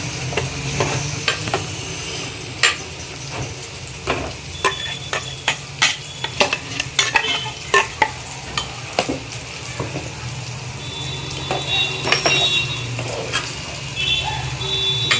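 Ground masala paste, vatan, going into a hot oiled frying pan for a chicken curry, with loud scraping and clanking of a spoon against the pan over a continuous sizzle, in irregular bursts.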